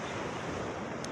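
Ocean surf off Jungmun beach, Jeju, heard from a swimmer far out in the water: a loud, unbroken wash of waves mixed with wind noise on the microphone.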